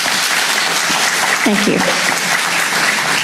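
Audience applause fills a town hall meeting, a steady wash of clapping throughout with a person briefly speaking in the middle.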